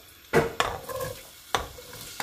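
Onion sautéing in oil in a pan for chicken biryani, with sharp stirring scrapes and clatters over a soft sizzle, several spaced strokes heard up close with no talk.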